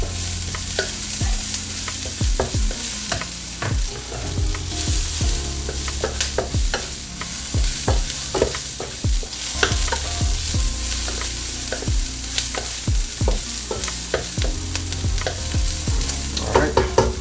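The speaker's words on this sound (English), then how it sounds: "Okay, now we're gonna add our cabbage." Cabbage being stir-fried for brisket lo mein, a loud, steady sizzle in a hot pan broken by frequent clanks and scrapes of a utensil tossing the vegetables, with no voices.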